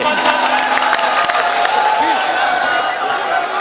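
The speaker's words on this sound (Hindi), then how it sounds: "जोरदार तालियों से इस्तकबाल कीजिए।" Applause from the audience at a mushaira poetry gathering in Saharanpur, a steady wash of clapping with some crowd noise and voices mixed in, sustained at an even level for several seconds.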